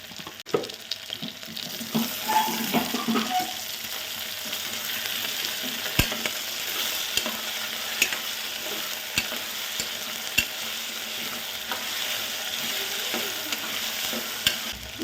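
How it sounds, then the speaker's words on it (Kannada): Vegetables and potatoes fry in a pan for pulao with a loud, steady sizzle. Occasional clicks from stirring break through the frying noise, close by. No one speaks. "ಈಗ ಎಮರ್ಜೆನ್ಸಿ ಈಗ ಆಲೂಗಡ್ಡೆನ ಹಾಕ್ತಾಯಿದ್ದೀನಿ"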